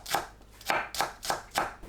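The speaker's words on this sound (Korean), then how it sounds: "파를 작게 썰어주세요." Green onion chopped with a knife on a board, five crisp, evenly spaced chops in a steady rhythm, close and clear with no talking.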